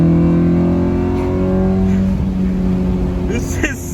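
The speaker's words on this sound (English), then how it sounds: "we're gonna see if you can hear the sound of the VTEC and 4th." A Honda Type R engine pulls hard in fourth gear, its steady loud intake and engine drone filling the cabin, with voices talking over it.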